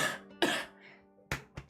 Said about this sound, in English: I need to do a big cough.